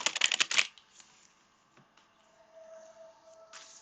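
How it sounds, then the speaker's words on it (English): A moon deck of tarot cards riffled in a quick burst of crisp flutters up close, followed by quieter handling sounds and a low tone, then one more brief riffle at the end. "One more shuffle, Libra."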